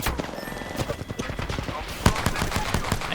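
Apex Legends gunfire crackles in quick, repeated shots during a match, a dense run of sharp reports with one louder crack near the middle, heard under someone talking.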